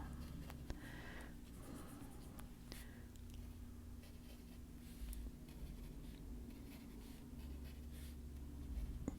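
Colored pencil scratching across paper in steady, soft strokes while filling in a coloring book page of a frog and goldfish with a pink shade, close and continuous over a low room hum, with no talking.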